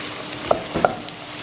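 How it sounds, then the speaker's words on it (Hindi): Spices and half a teaspoon of turmeric powder roast in a pan over low, steady sizzling. Two quick, close stirring clacks of a spoon against the pan stand out. "इसी के ऊपर मैं आधा टीस्पून हल्दी पाउडर भी डाल रही हूँ, ठीक है। इसको भी अच्छी तरह से भून लें।"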